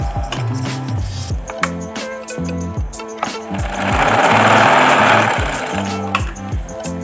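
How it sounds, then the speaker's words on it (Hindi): A repaired home sewing machine stitches with a fast, rhythmic mechanical clatter, close and steady, its motor whirring under the repeating needle strokes with no talking. "अब हम इसकी सिलाई चेक करते हैं"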